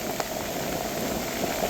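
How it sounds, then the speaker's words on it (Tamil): Heavy rain in Jaffna, a dense, even hiss of downpour pattering on surfaces, steady and close for a short stretch with no voices. "இப்போ யாழ்ப்பாணத்தில் இப்போ வந்து கடுமையான மழை பெய்து கொண்டு இருக்கும் இந்த காலப்பகுதியில்"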